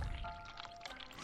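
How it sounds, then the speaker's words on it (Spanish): Running water in the dark horror game The Cat Lady, a soft continuous pouring and trickling wash with faint dripping, low and steady throughout the short stretch. "Escucho correr agua, debo apurarme."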